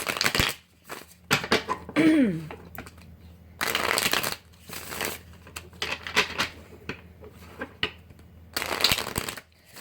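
Tarot cards are shuffled in several short riffling bursts with pauses between them, close up and moderately loud.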